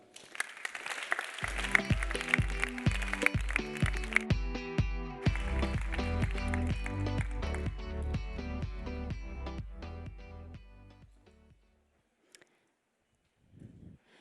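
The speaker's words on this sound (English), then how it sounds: "Please give her a round of applause, Monika." Conference audience at a ChangeNOW 2022 session applauds a speaker, loud and dense for the first few seconds, then blends into thumping walk-on music that carries on before cutting to near silence.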